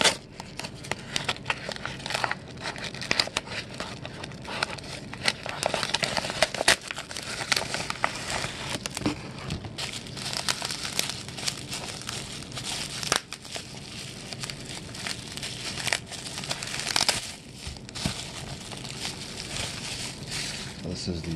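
A mail package holding a graded 2019 Panini Prism trading card in a PSA slab is torn open, with continuous close crinkling, crumpling and tearing of packaging while a person talks.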